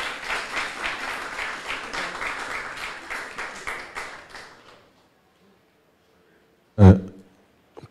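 An audience claps for several seconds, the applause fading out into silence, followed by a single loud thump.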